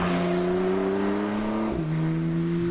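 Engine intake note of a 2017 Porsche 911 Carrera 4S heard from the cabin, a steady rising drone with a quick shift dip and then a resumed climb, no talking.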